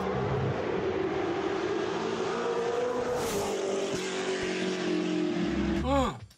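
A V8 engine burbles in a deep, throaty rumble, holding steady before a brief surge and a sharp revving sweep near the end, then cutting out; no one talks over it.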